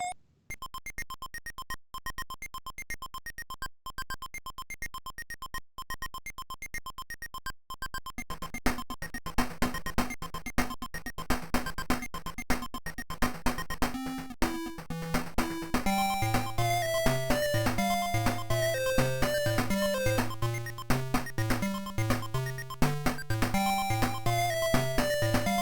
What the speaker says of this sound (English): I recorded following music in the DOSBox with Tandy emulation